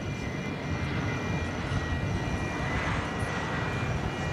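A Boeing 747 at DFW Airport at night gives off a steady, loud broadband jet roar with a faint high whine, continuous and unchanging.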